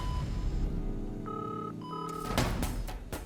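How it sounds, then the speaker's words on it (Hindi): A phone tone sounds in short steady beeps, followed by a burst of ringing or dialing noise, fairly close and clear. "मैं अभी देवी वन्ना भाभी को फोन लगाता हूँ"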